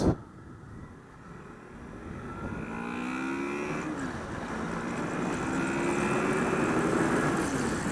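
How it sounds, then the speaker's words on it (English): A 2016 Honda Crossrunner V4 motorcycle engine drones steadily, rising in pitch as it accelerates, with a smooth rumbling tone and wind noise in the background. "The V4 engine does sound nice."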